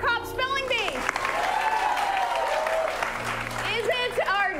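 An improv comedy audience claps and cheers loudly in a sustained burst to vote for a scene, with a host talking over the start and end of the applause.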